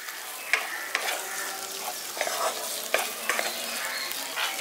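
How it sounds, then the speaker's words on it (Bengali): Chopped coriander is stirred into village-style tomato bharta in a hot pan, a soft continuous sizzle broken by repeated clicks and scrapes of a spoon against the pan. "ধনেপাতাটা দিয়ে মিশিয়ে নিচ্ছি"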